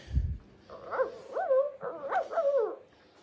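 A small puppy dressed in a holiday sweater whimpers in a series of high, wavering whines, close and fairly quiet after a brief low thump, with no talk over it.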